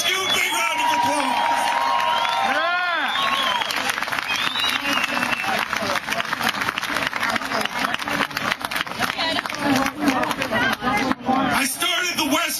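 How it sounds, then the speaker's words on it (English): A rally crowd at a Boston Tea Party event gives a big round of applause, sustained loud clapping and cheering filling the space while a voice briefly talks over the start. "Give a big round of applause."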